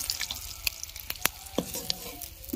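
An egg fries in a pan in a village kitchen, a close, crackling sizzle broken by sharp spits and clicks of a utensil, steady and moderately loud with no talking.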